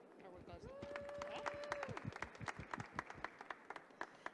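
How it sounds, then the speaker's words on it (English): Audience at a pitch competition giving a round of applause: dense, steady clapping from a crowd indoors, fairly faint, with a brief sustained tone near the start. "I'd like to give everyone here a round of applause"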